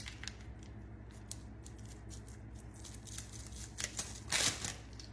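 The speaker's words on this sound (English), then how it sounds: "Just take your scissors. I'm gonna cut these open." Quiet snipping of scissors cutting open small ramen seasoning packets, a few soft irregular clicks and crinkles close by, with one louder cut near the end.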